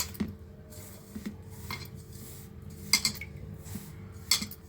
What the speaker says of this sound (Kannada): ಆಮೇಲೆ ಇದು ಒಂದು ಸೌಟಲ್ಲಿ ಅಥವಾ ಸ್ಪೂನಲ್ಲಿ ಬೆರೆಸ್ಬಿಟ್ಟು